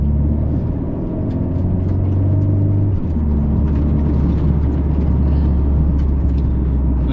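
A 2025 Mercedes-AMG CLA 45 S Coupe in race mode cruises with a loud, steady engine drone and road roar from inside the cabin, the pitch shifting slightly partway through.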